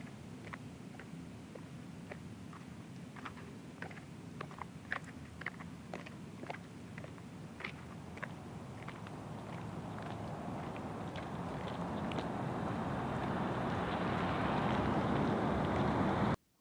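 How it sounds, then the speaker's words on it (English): High heels clicking on pavement in a quiet, empty film scene: a steady rhythm of faint, sharp footsteps over a low hum, fading as a swelling music score rises underneath. "It's the sound of her heels walking on the pavement."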